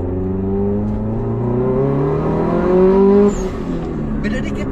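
Subaru Impreza accelerating hard, its engine note climbing steadily through the revs and peaking loud and close before a shift drops it back, with voices faintly in the cabin.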